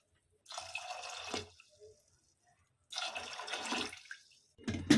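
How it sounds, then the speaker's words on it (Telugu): Water pours into a metal pressure cooker in two bursts with a short gap, a splashy rushing fill, then a final brief splash and clunk. "ఒక త్రీ కప్స్ వాటర్ వేసుకోండి"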